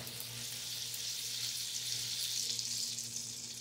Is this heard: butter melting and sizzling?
yes